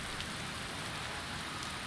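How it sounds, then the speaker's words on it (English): Rain falls in a video game as a faint, steady hiss of drops with no distinct thunder and no voices over it. "But it's raining out"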